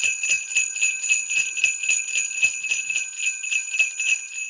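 Sleigh bells shaken in a steady rhythm give a bright, loud jingling pulse of evenly spaced shakes, close and alone throughout.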